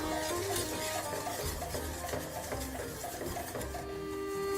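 Flour stirred into melted butter in a pan for fettuccine gives a continuous close scraping and rubbing texture, with steady rhythmic utensil strokes against the pan and no talk.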